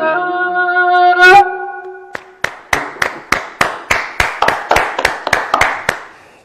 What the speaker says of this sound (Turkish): beni görmüyorsun ama ayaktayım ve ayakta alkışlıyorum